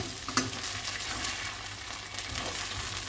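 Chilli garlic sauce, tomato ketchup and soy sauce being stirred into frying chilli garlic fries in a pan, a continuous close sizzle with soft scraping stirs and one sharp clack of a utensil.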